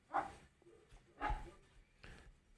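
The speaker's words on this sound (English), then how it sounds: "Let's get this dog to stop barking." A dog barks in a few separate bursts, spaced about a second apart, close by and indoors, with no talking over it.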